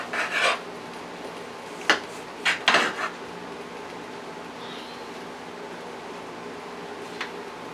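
A regular non-serrated knife slices through bread for homemade stuffing, giving a few short rasping cuts and scrapes against a board in separate bursts, then quiet room tone.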